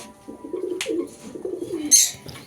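Pet pigeons coo in repeated low, throaty phrases close by, with a brief rustle or flutter partway through and no talking over them.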